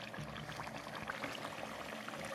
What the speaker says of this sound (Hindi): फिर इसमें हम पानी शामिल कर देंगे ताकि इसका थोड़ा इसका शोरबा बन जाए